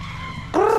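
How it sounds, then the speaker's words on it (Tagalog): A red junglefowl rooster's short crowing call bursts out near the end, loud and close, after a stretch of steady background noise at Taal Lake. "ayan may labuyong manok yan"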